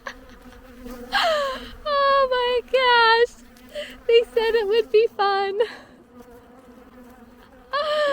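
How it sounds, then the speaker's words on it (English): Angry bees buzz close by in sharp, whining bursts that rise and break off repeatedly, each lasting about a second, while a person talks intermittently. "I'm sweaty and I have bees that wish death upon me"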